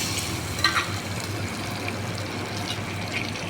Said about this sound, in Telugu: రెండు ముక్కలు నాలుగు ముక్కలుగా కట్ చేసుకున్న టమాటా కూడా వేసేస్తున్నా